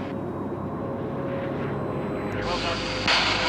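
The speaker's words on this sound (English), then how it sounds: "we can see the Vulcan just roaring away from us, right up into the sky" Avro Vulcan jet bomber engines roar loudly and steadily, a broad continuous rumble that surges stronger toward the end as the aircraft climbs away.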